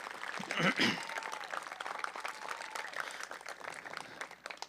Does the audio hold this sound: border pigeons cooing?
no